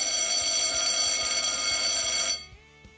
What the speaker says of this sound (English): Ding, ding, ding. This is the sound of a bell.